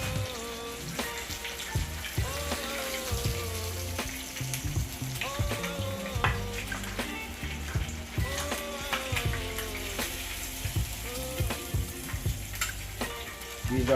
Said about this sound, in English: by now these fish should completely fry